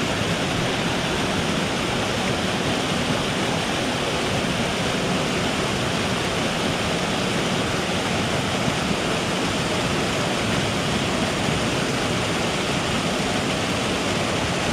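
Rushing water from small waterfalls on a Carpathian forest trout stream, a steady, loud, broadband roar that stays constant and close throughout, with no voices.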